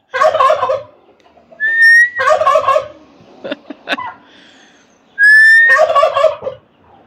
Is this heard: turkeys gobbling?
yes